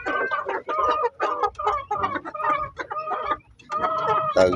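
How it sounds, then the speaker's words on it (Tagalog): Chickens of over a kilo, raised for sale, cluck continuously in a cage, a loud, close, busy chorus of overlapping clucks with brief pauses and no talk. "natira dito mga kapanok na mga alaga natin, no, na binibenta natin"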